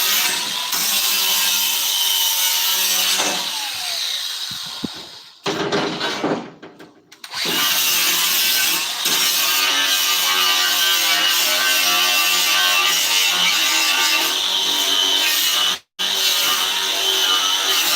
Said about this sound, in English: You can just use the battery operated one and get a lot done